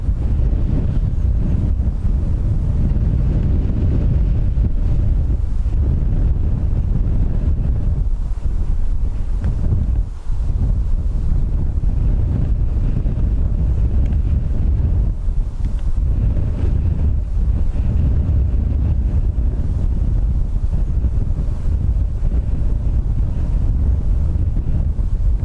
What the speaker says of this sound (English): It's gusting 20-21 knots.